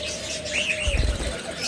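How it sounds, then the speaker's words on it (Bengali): A caged budgerigar gives a few short, thin chirps at close range, with a faint flutter and soft background noise. "বাজরিগার পাখি"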